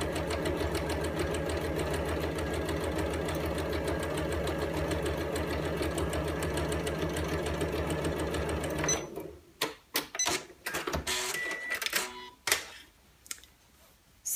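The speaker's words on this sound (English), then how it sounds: "I'm just going to sew this down just so it's got a nice clean edge with a straight stitch" Sewing machine running a straight stitch along the folded edge of an envelope-style cushion cover, a steady loud mechanical whir for about nine seconds, then stopping into short handling clicks and knocks.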